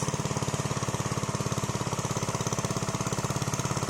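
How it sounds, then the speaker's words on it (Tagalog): A walk-behind plowing machine with a wide blade tills a field, its engine chugging loudly and close in a fast, steady, even rhythm throughout, with no voices. "nag-araro kami gamit yung makina"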